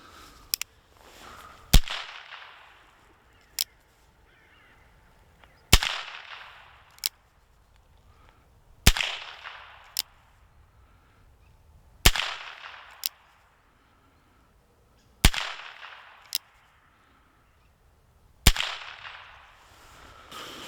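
Loud, sharp black powder revolver shots from a Pietta Colt 1851 Navy fired outdoors, each crack followed by a long decaying echo. They come in a steady series of roughly paired reports about every three seconds, with no talking.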